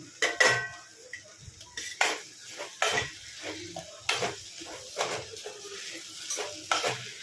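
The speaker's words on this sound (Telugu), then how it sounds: "ఇలాగే కలుపుకుంటూ వేయించుకోండి." Chopped tomato and lentils fry in a pan while a spoon stirs them, scraping and clanking against the metal in irregular strokes over a soft, steady sizzle.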